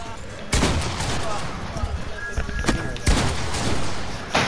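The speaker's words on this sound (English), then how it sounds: "Yo, what are you shooting at me for?" Gunfire in Fortnite, a few sharp, loud shots spaced across a few seconds over a noisy backdrop, with a player talking now and then.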